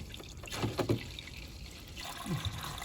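Oil mixed with water trickling and dribbling out during a vehicle oil drain, a soft, close, steady liquid flow with a few gurgling drips.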